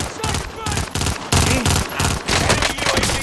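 Rapid automatic gunfire and shotgun blasts crackle through a video game shootout, loud and near, in dense bursts with brief gaps between volleys.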